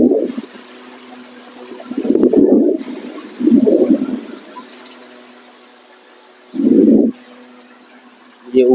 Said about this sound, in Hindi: ये फैन की आवाज़।